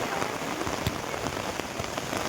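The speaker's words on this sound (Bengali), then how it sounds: "এদিকে পুরো বৃষ্টি," Steady rain pours down outdoors, a dense continuous hiss with scattered sharper drops landing on surfaces throughout, close and fairly loud, with no voices.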